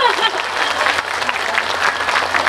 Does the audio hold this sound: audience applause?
yes